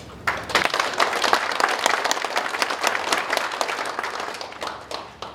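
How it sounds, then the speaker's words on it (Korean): An audience at a policy forum in a National Assembly meeting room bursts into brisk applause, many hands clapping loudly and steadily for several seconds before easing off at the end. "감사한 뜻으로 박수 한번"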